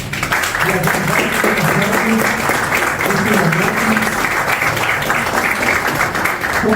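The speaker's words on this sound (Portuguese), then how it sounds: "Então eu queria uma salva de palmas para Dinho Blues" A crowd applauds steadily and warmly at a book launch, dense clapping sustained throughout with voices mingling underneath.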